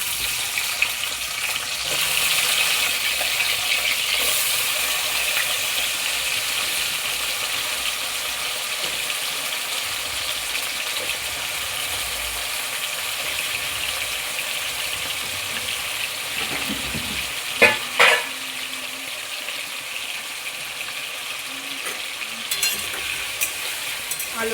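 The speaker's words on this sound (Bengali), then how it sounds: "আলুটা লাল লাল করে ভাজা হবে, আলুটা লাল লাল করে ভেজে নিই" Potatoes fry in a pan with cumin, a steady broadband sizzle running throughout while a utensil stirs them, with a couple of sharper scrapes near the end; no talking.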